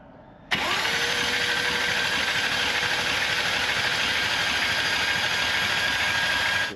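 Rebuilt BMW M2 engine cranks and catches, then runs at a steady even idle with a constant whirring hum and a high whine on top, close and continuous for several seconds.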